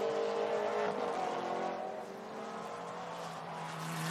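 GT race cars, a KTM and an Aston Martin, roar around a tight, twisty circuit section, engines revving and shifting as they brake and accelerate through corners, a sustained loud drone that eases slightly midway.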